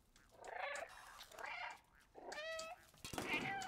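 A cat in the video game Stray meows repeatedly in quick succession, several short bright calls close and clear, with rapid button-spammed repetition.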